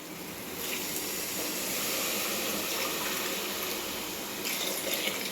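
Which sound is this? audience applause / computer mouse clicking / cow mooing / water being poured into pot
water being poured into pot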